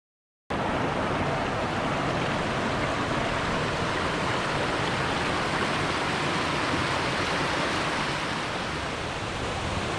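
A waterfall rushes steadily just behind a campsite on the Susquehanna River. The dense, even roar of falling water stays loud and unbroken throughout, with no voices.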